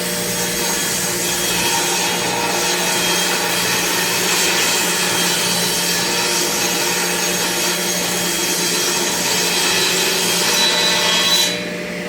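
Steady, continuous rip cut lengthwise through a wooden board, a dense rasping drone that runs almost unbroken before stopping abruptly near the end.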